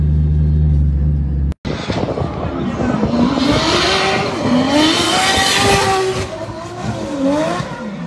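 Drift race cars launch into a paired heat at round one of the RDS Europe 2023 series, engines revving loudly with rising and falling pitch and tire squeal, continuous after a brief cut near the start.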